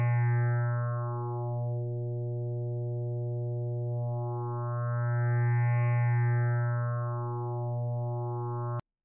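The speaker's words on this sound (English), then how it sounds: "we can use a noise generator instead of a line so that the output signal is constantly morphing from one shape to another" A SuperCollider wavetable synth holds a steady pitched tone whose waveform morphs continuously under a noise generator, its brightness slowly swelling and receding in smooth waves, with no voices.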